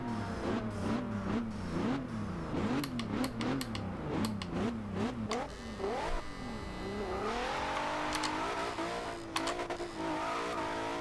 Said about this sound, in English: you can really hear the turbochargers on the inside.